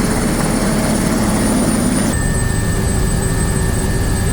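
Helicopter in flight with a steady, loud rotor and engine drone that continues unbroken, close and dominant throughout, carrying a slight change in tone partway through.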